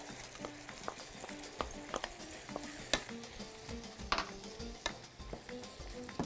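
Onions sizzle steadily in a pan, with a continuous frying crackle and scattered sharper pops and clinks of utensils, close and moderately loud, while cowpea salad is prepared.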